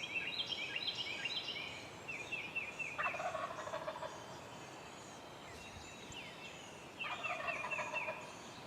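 A wild turkey in Tennessee gobbles twice, a few seconds apart. The rolling calls sound moderately distant over a quiet outdoor background with faint birdsong.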